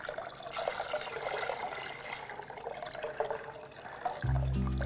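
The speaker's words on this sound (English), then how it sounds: "You can pour the rest in, Pinion." Broth pours into a pot with a soft, steady liquid splash that ends in a louder, lower thump.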